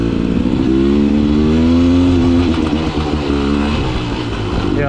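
A Beta Xtrainer 300 dirt bike engine revs loud and close on an off-road trail, its pitch climbing and wavering through a sustained, gritty two-stroke roar.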